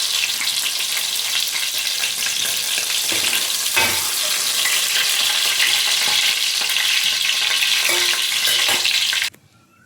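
Ingredients sautéing in hot oil for Kerala-style fish curry, giving a loud, steady sizzle with occasional stirring scrapes, close up with no talk, cutting off abruptly near the end.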